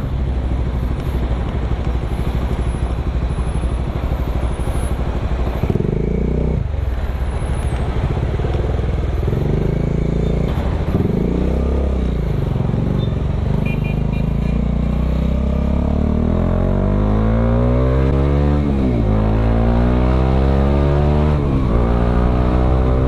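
A motorcycle rides through heavy city traffic in San Fernando, its engine droning loudly and steadily, then revving and rising in pitch through repeated gear changes in the last few seconds as it pulls away.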